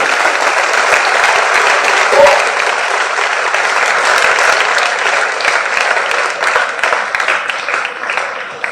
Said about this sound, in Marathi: त्यांचं सुद्धा आपण जोरदार टाळ्या वाजवून स्वागत करूया.